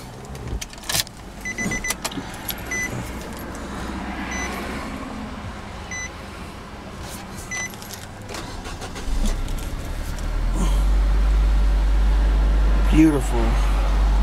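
The engine of a 2011 Nissan Juke with all-wheel drive turns over, then settles into a low, steady idle after small clicks and mechanical noises. People talk nearby.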